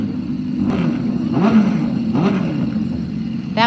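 A metric motorcycle engine rumbles at idle nearby with a few throttle blips, the low chugging steady throughout.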